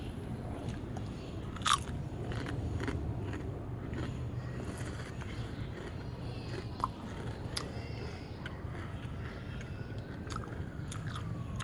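Kettle Brand maple bacon potato chips are chewed up close, with crunchy bites and steady mastication over a faint background rumble.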